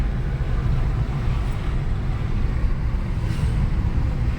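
A car on the road near Electronic City, Bangalore, heard from inside the cabin as a steady low rumble of engine and road noise, continuous and fairly loud, without talk.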